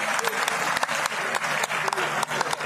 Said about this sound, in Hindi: हम नमन करते हैं, तालियां बजाते हैं।